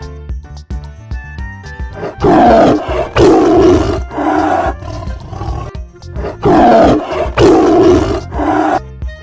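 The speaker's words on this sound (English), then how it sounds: "T is for tiger." A tiger roars loudly and repeatedly in long, rumbling bursts with short pauses between them, heard over a light musical backing in a children's alphabet animation.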